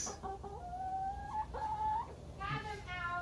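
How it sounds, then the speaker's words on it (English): A chicken indoors clucks in a quick run of short, close, fairly loud calls, with a few higher squawks near the end and no talk. "Rachel, you have a chicken in the house."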